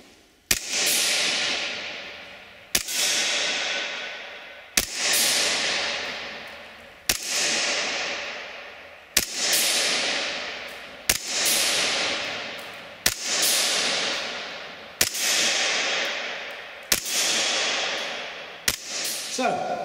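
An airsoft gun from WE Europe fires on Nuprol 2.0 gas: about ten sharp single shots spaced roughly two seconds apart, each a loud crack followed by a long fading hiss of venting gas.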